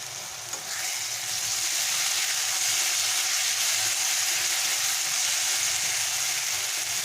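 Tomato paste frying with fried onions in a pan, a loud, steady close sizzle that swells after the paste goes in and hisses on continuously with no voices.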